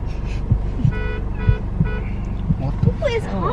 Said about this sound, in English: Who is honking at me?